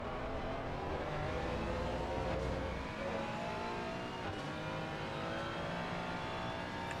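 Race car engines roar continuously in Assetto Corsa Competizione during a 24-hour endurance race at Spa, a loud sustained drone of revving and gear changes with cars passing close by.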